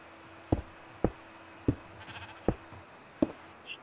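Sheep in a video game bleat five times in short, evenly spaced calls, fairly faint over a quiet background, with no talking.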